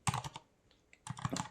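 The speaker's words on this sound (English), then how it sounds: "I can't type with one hand because I have a split keyboard" Typing on a split computer keyboard, a quick burst of clicking keystrokes, a short pause, then another burst, close up and fairly quiet.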